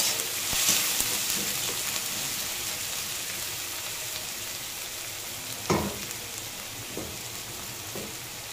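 Onions sizzle steadily in hot oil in a pan for a vegetable chop, a continuous close frying hiss with a few louder spatters and stirring knocks, no talk.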